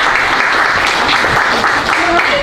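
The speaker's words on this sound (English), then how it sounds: "round of applause for George" A cookery demo audience gives a volunteer named George a loud round of dense, continuous clapping, close and full throughout, with a few voices mixed in near the end.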